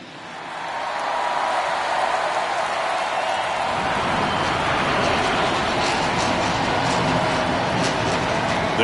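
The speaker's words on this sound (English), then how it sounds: "crowd is amped up, ready to get this season underway" Crowd at a baseball stadium before an Orioles versus Red Sox season opener: a loud, steady roar of cheering builds and holds throughout, with scattered claps and whistles in the wash.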